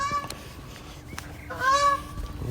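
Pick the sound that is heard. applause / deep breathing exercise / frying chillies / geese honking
geese honking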